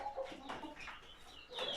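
Chickens being fed greens give a few short, quiet clucks and murmurs close by, without any talking.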